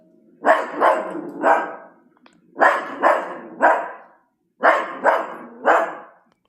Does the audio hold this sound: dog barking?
yes